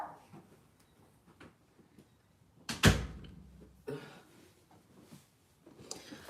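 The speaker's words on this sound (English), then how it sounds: "I'm finna close the door now" A door is shut once with a sharp, loud slam at close range, followed by quieter room noise and brief faint voices in the background.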